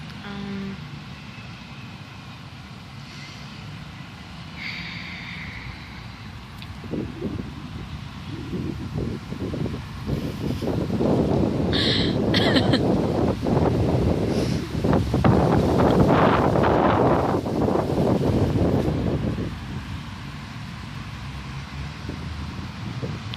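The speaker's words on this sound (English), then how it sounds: "I'm just gonna let the wind do what it wants to with my hair" Outdoor wind gusting across the microphone, a rough low rumble that swells and buffets heavily in the middle before easing off, with no talking.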